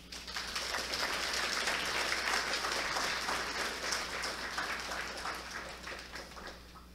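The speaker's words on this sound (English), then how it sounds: "you're all winners and you all deserve a round of applause" Audience applause at an essay awards ceremony honouring contest participants, a steady, moderately loud patter of many hands clapping that holds for several seconds before easing slightly, with a low hum underneath.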